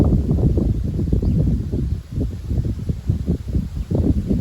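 Strong wind blows ahead of a supercell thunderstorm on 3 May 2025, a steady low roar that buffets the microphone with uneven gusts, loud and continuous, with no voices.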